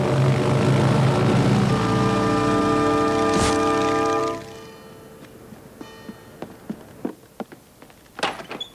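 An animated airplane roars past loud and close with a droning, propeller-like engine hum that cuts off abruptly, followed by a series of scattered clicks and thumps.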